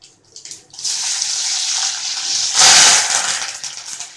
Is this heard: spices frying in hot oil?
yes